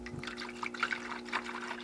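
Evaporust rust remover liquid poured into a container, a faint, brief trickle with small dripping splashes, close and quiet with no talk.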